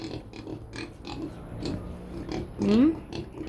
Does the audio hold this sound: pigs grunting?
yes